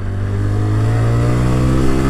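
A 2015 Honda Grom motorcycle engine drones loudly and close in a steady, slightly rising tone through a brief downshift.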